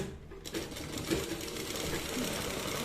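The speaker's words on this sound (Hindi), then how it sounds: "अब हम इस पे एक पैर का सिलाई लगा देंगे, ताकि ये बाद में वॉश वगैरह हो तो ये खराब ना हो।" A sewing machine topstitching along the edge of a fabric strip runs in a continuous, even whir after a brief start, steady and close.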